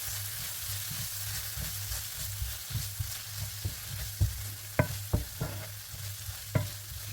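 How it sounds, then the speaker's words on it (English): Tomato paste and spices cook in a pan for a coconut chicken curry, giving a soft steady sizzle. Sharp scraping stirs and clinks against the pan come more often toward the end. "I'm just gonna cook these guys for a few minutes, just to cook the tomato paste and my other spices"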